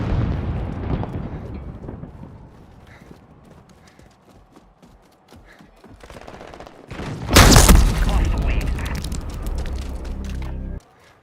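A Semtex grenade goes off in a first-person shooter video game, a sudden loud blast that cuts in after quieter gunplay and combat noise, then rumbles on heavily for several seconds before stopping abruptly.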